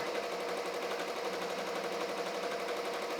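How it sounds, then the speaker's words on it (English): A Ricoma embroidery machine stitches a bear design on fabric, giving a steady, fast mechanical whirr with an even rhythm that runs unbroken and fairly close, with no talking. "See it embroidering? It's gonna do 4 of them."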